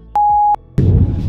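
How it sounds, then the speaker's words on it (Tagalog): A single sustained censor beep tone, loud and steady for about half a second, followed by a burst of noisy clatter. "Beep!"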